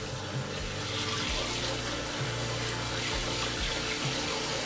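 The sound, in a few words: hot water filling a Breville portafilter from a tap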